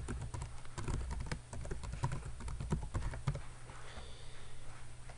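Fingers typing an email address on a computer keyboard: a quick, uneven run of close, crisp key clicks that slows and thins out toward the end, with no speech.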